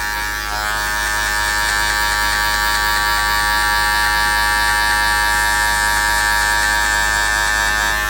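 Electric hair clippers buzz steadily and loudly with the lever fully open and no guard, cutting hair in a barbershop fade; a constant close hum with strong tonal whine and no talking.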